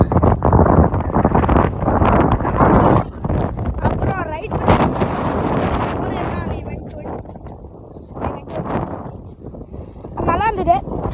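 Strong wind buffets the microphone on the sand dunes at Kitty Hawk, North Carolina, roaring in loud, uneven gusts throughout while someone talks over it.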